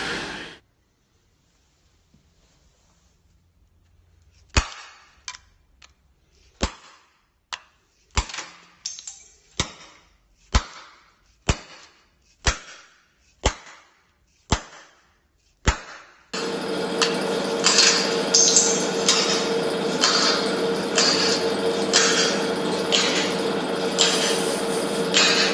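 A rubber mallet strikes an old part about a dozen times in steady, sharp, fairly close blows after a quiet start, then a dense, steady rasping noise takes over for the rest.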